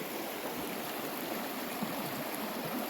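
A stream runs in a snowy woodland at winter's end with a continuous, even rush of water heard at a moderate distance, faint and steady throughout with no talk.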